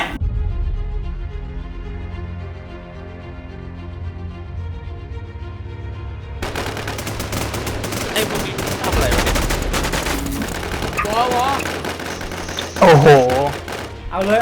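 Rapid gunfire in the shooter game Infestation, a dense exchange of automatic bursts and single shots that follows a steady tonal hum, with players talking over it.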